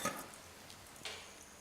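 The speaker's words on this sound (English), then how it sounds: "So these croutons are foaming away," Croutons foaming and sizzling in hot butter in a frying pan, nearly done, giving a faint, steady crackle with a couple of brief louder spits.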